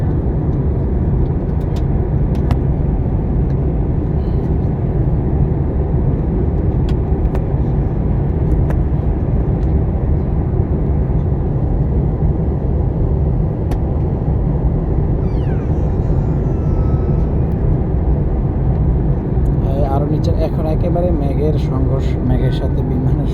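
Loud, steady engine and cabin roar inside an airliner descending over Sri Lanka, a constant low rumble with faint rattles, holding through the whole stretch.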